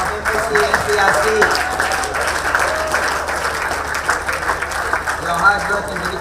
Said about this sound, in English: Can we have a round of applause for the athletes of MSC and CRC?